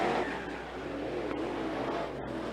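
IMCA Sport Mod race cars roar around Sunset Speedway, the engines forming a steady, dense drone from a distance.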